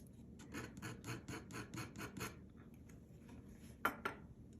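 Oil paint, a mix of ultramarine blue and burnt sienna, scraped off a surface with about eight quick rhythmic rasping strokes, then a pause and two sharper scrapes, quiet and close, with no talk.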